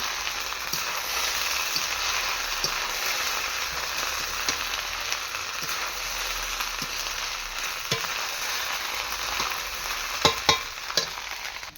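Fried rice with cashews and carrots sizzles loudly in a pan while being stirred, a constant close crackle broken by a few sharp scraping clinks near the end, with no voices.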